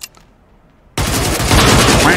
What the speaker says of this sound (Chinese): 这次这是狙击啊